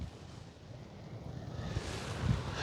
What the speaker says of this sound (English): And it is windy, make no mistake.